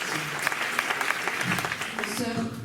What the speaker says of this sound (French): j'aimerais que vous nous applaudissiez